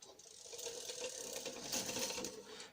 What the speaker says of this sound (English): you can hear that sort of clicking and let go